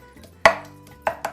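Garlic cloves pounded in a stone molcajete, three sharp thuds of the pestle, one loud then two lighter, heard close in a quiet kitchen.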